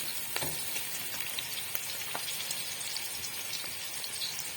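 Onions sizzle and crackle in hot oil, a quiet steady frying hiss with scattered pops.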